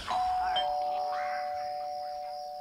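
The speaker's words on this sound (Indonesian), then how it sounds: "di mes ini ada bel rumah yang terletak di depan gerbang." A house doorbell mounted at a front gate rings once with a bright, sustained electronic tone that rings out and slowly fades over a couple of seconds, heard alone in a quiet night-time setting.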